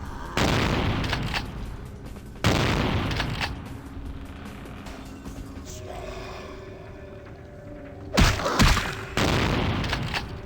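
Gunfire in Vampire the Masquerade Bloodlines aimed at the player: loud, sustained bursts of shooting with short pauses between volleys and a low hum underneath.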